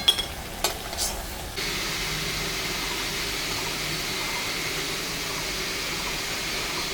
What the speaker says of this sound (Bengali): আমি করলার পকোড়া ভাজলাম